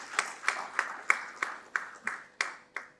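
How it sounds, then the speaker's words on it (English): Sparse, evenly spaced clapping at a conference session on India–Europe private sector collaboration, about ten distinct claps in a steady rhythm, fairly faint, like only a few hands. "A round of applause, guys, for the State of the Sector report by Clean"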